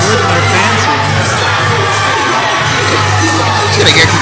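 Loud, dense crowd of wrestling fans and children at an indie show in Barry's Bay, shouting, cheering and whooping continuously, with a steady low hum beneath the roar.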